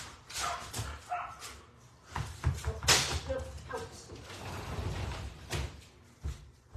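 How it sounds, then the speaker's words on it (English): A neighbor's dog barking outdoors in several sharp bursts of varying loudness, heard with a person talking nearby. "barks at them until they pay attention to her"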